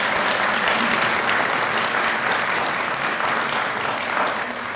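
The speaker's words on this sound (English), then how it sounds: "So let's have a round of applause for those members of our board." A large audience applauds board members of Athens State University at a Hall of Fame ceremony: a dense, steady wash of many hands clapping, loud and sustained for the whole stretch, tapering only slightly at the end.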